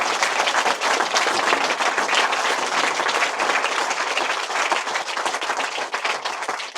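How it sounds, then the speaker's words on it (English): An audience at a talk on sea stories and maritime objects held at Arundells gives a sustained round of applause. The dense, even clapping continues at a steady level throughout, with no speech over it. "I hope you'll all join me in giving them another round of applause."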